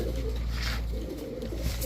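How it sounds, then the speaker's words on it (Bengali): Giribaj high flyer pigeons kept for sale coo in a close, steady, low murmur that fills the whole short stretch, with no talk over it. "খুব সুন্দর অরেঞ্জ চিলা একটা নর কবুতর"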